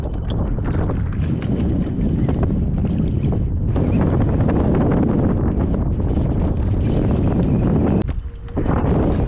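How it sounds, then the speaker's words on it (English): Strong wind buffets the microphone on a fishing boat on the water, a loud continuous roar with gusty rumble that barely lets up, dipping briefly near the end. "Man, love this wind."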